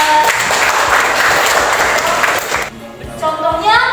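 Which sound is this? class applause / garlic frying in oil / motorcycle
class applause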